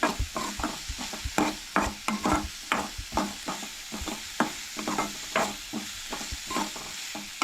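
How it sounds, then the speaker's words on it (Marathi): Grated ginger and garlic stirred in a hot pan for pav bhaji, a spoon scraping and clacking in a steady rhythm over a soft sizzle, close and alone with no talking. "हे बरें मिक्स करून घेवंक जाय."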